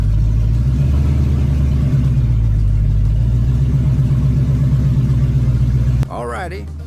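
A car with a newly fitted 2500 stall torque converter and headers climbs a hill, its engine held high in the revs with a loud, steady drone for about six seconds, then dropping off sharply as a brief voice-like sound follows.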